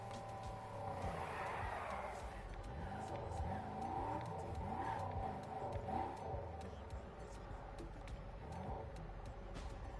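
A car in Need for Speed Heat accelerates on nitrous, its engine roaring steadily with rising revving tones and a faint tire squeal, loud and constant throughout.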